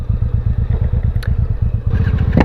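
Honda Shadow motorcycle engine idling loud and close, a steady deep lumpy rumble with rapid rhythmic pulses and some clatter throughout.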